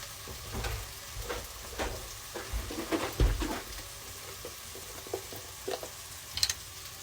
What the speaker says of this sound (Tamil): இனி தேங்காய் பால் விடணும்.